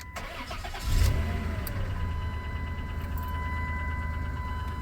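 A 1997 Dodge Caravan LE idling just after starting, its engine low on oil and suspected of a spun rod or bearing; a steady, moderately loud mid-pitched hum with a brief rise near the start, no talk.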